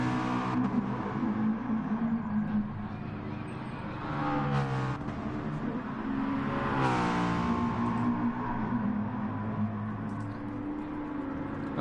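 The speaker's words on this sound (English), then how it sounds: "we're watching one of the McLarens rev their engines up down at turn number 1" McLaren race car engines in GT Sport rev up and down at the first turn, a loud, continuous rising and falling engine whine with repeated sweeping throttle blips and no talk.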